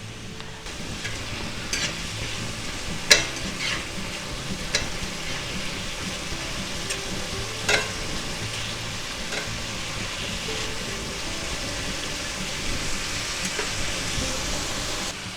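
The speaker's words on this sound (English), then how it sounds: "since these are canned mushrooms, we're just going to get a little color on them, and that'll be good." Canned mushrooms frying in garlic butter in a pan, giving a steady, close sizzle that fills the whole stretch, with a few sharp clicks and scrapes of a utensil against the pan.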